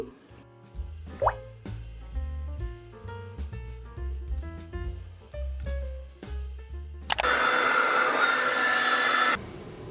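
After several seconds of music, a hair dryer used for drying clothes, one that is burning out, switches on abruptly and blows with a loud, steady, close rush for the final couple of seconds.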